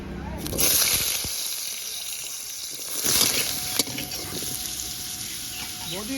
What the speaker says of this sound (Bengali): এবার আলুগুলো তেলে ছেড়ে দেব